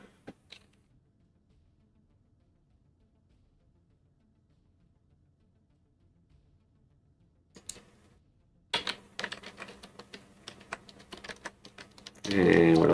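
Computer keyboard typing during a gaming session, a burst of rapid clicks kicking in late after mostly quiet, with a loud rush of noise at the very end.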